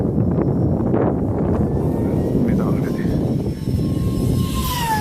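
A radio-controlled model airplane's engine whines steadily overhead, high and buzzing, shifting slightly in pitch as it passes, with wind noise throughout.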